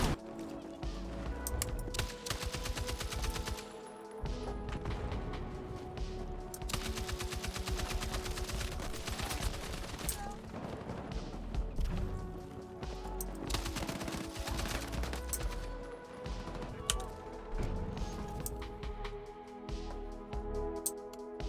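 An M60 light machine gun firing in Battlefield 6, long rapid sustained bursts with brief pauses, set against in-game battle noise at a moderate distance.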